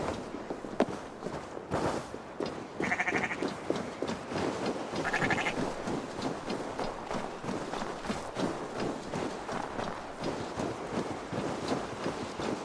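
Sheep bleat in the video game Assassin's Creed Valhalla, a few short, nasal calls rising over a busy bed of footsteps and animal movement, close and moderately loud.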